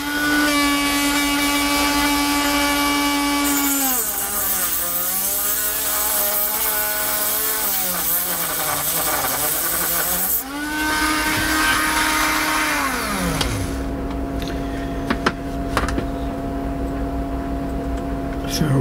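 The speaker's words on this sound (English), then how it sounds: "Just pulling the wheel slightly from side to side to make a wider cut." A rotary cutting wheel grinds into a polished pebble with a high, whining tone. The pitch sags and wavers as the wheel is worked from side to side to widen the cut, then winds down, leaving a faint hum and a few clicks.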